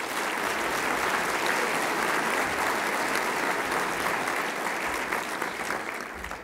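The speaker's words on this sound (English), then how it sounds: "Let's give all of this year's award recipients another round of applause" A dinner audience claps steadily and warmly for award recipients, a dense, sustained round of applause that holds at an even level throughout.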